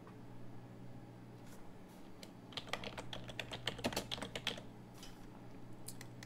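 Typing on a computer keyboard while entering a name in Photoshop: a quick burst of light clicking keystrokes in the middle of the clip over a low electrical hum, quiet and close, with no talking.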